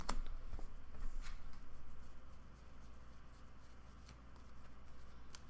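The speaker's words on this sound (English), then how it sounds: "we're just going to shuffle the Albaz and the Lubellion back in." Yu-Gi-Oh cards from a Branded Predaplant deck being shuffled back into the deck by hand, a faint, continuous papery riffling with small sharp clicks throughout.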